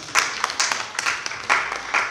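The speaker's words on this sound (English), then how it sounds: "give me a round of applause" A short burst of clapping from a small group, sparse and uneven claps over about two seconds rather than a full roaring ovation.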